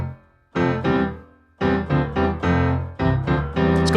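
Close solo piano plays the second half of a groove, featuring a double walk-up, with full sustained chords entering after a brief pause and then repeated in quick rhythmic strikes.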